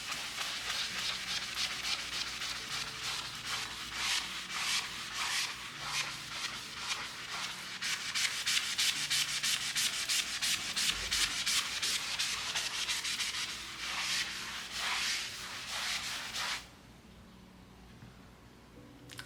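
A wet abrasive cleaning pad scrubs a scuff mark on a painted surface at home, giving continuous close, rhythmic rubbing strokes that speed up midway, then stop abruptly near the end, with no talking.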